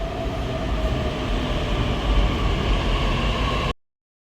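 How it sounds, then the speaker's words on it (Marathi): Metro train on an elevated line near Bhosari Nashik Phata in Pune, arriving at the station, a steady loud rumble and rail noise that holds evenly throughout before cutting off abruptly. "आता मेट्रो आलेली, मेट्रोमध्ये जातो आम्ही."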